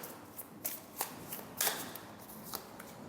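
Tarot cards shuffled by hand in a few quick riffling bursts, soft crisp flutters separated by short pauses, fairly quiet and close with no talking.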